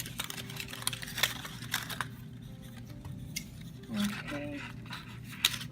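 Scissors cut craft material for a peppermint lollipop decoration, giving several short, close snips and rustles at a soft level, with a brief spoken word in between.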